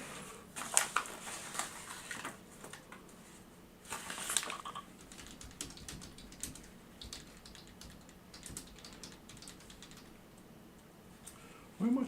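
Fingers tapping on a computer keyboard in bursts of quiet clicks, close and fairly soft, with a few sharper clacks and some shuffling between runs of keystrokes.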